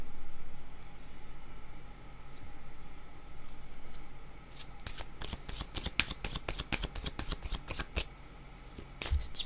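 Playing cards are shuffled in a series of crisp riffling bursts that start about halfway through, sharp and close, over steady low room noise with no speech.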